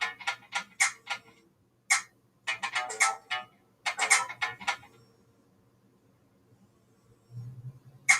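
Phone ringtone for an incoming call, playing as bright rhythmic chiming bursts in several groups, clear and close, with a short pause between groups.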